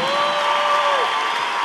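A crowd applauds in tribute to Señora Margarita Arteaga at a Perros Criollos event, with steady, dense clapping and a faint whistle, loud and unbroken throughout.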